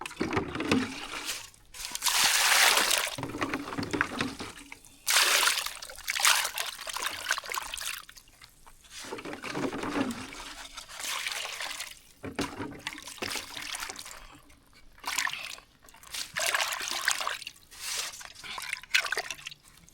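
Running water splashes and trickles in surging bursts while fish is washed before grilling outdoors, loud and close, rising and falling in waves over about twenty seconds.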